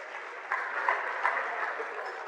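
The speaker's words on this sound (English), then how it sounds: "Give yourselves a round of applause." Dinner audience of several hundred at a cricket celebration evening giving a steady round of applause, dense even clapping from a large room, moderately distant.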